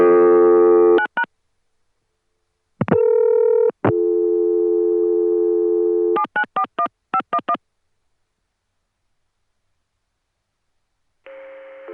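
A 1980 ConTelNet CCSA telephone line sounds loud, clean electronic tones after a number is dialed: a steady tone, a pause, longer sustained tones, then a quick run of short DTMF-like beeps, silence, and a final quieter tone.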